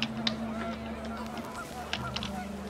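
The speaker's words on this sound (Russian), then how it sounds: "поднялся ветер, улетела стая гусей" A flock of geese in What Remains of Edith Finch honk in short bursts against a low steady hum, a few calls scattered across a couple of seconds, moderately distant.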